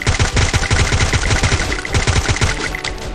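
Sustained automatic gunfire sprays in rapid bursts during a first-person shooter match, loud and close, with dense repeated shots and no talking over it.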